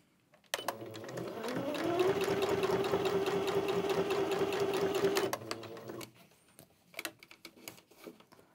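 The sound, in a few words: sewing machine stitching fabric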